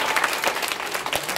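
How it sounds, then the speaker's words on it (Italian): Dense applause from a seated audience at a talk with Sassuolo footballer Edoardo Goldaniga, a steady close wash of many hands clapping for the whole short stretch. "se volete potete anche fargli un applauso"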